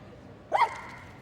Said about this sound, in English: barks a lot when running